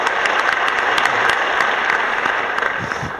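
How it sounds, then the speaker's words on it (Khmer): Loud, continuous applause from the audience at a leadership debate, bright sharp claps packed close together and holding steady throughout with no talking on top. "សូមមេត្តាទះដៃឲ្យខ្លួនឯងមួយបាទ"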